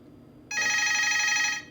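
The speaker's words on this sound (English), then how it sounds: "The phone just decided to ring all by itself." A telephone rings once indoors, a sustained electronic bell tone starting abruptly and holding steady for about a second before cutting off, fairly close and clear over a quiet room.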